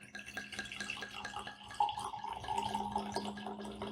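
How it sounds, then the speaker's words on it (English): Malbec red wine is poured by hand into a glass without an aerator, a quiet liquid trickle and splash heard alone. "Now for the pouring."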